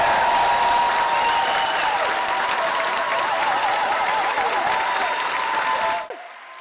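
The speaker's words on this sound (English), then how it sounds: "Let's have a first round of applause for our incredible graduates." A large audience at a university degree ceremony in Brighton applauds the graduates in a loud, sustained wash of clapping that holds evenly for about six seconds, then cuts off sharply.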